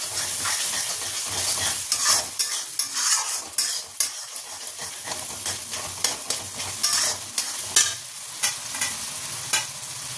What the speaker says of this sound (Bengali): এই সময় কেটে রাখা ক্যাপসিকামটাও দিয়ে দেবো, কারণ মশলাটা কষা হয়ে গেছে।